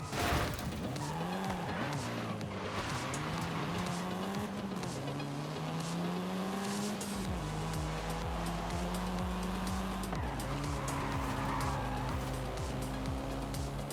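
A Volkswagen Golf R, the seventh-generation model, drives in the racing game Forza Horizon 5, its engine revving and shifting up through gears with rising and falling tones and tire noise, steady and loud throughout.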